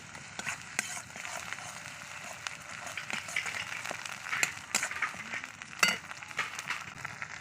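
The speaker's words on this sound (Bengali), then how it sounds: "তো এই যে পেঁয়াজটা হালকা ভেজে নিয়েছি আমি এবার এই মশলাটা দিয়ে দিচ্ছি" Spices going into lightly fried onions in a pan for a chana dal dish, giving a soft steady sizzle with scattered crackles and scraping clicks of stirring, close and fairly quiet.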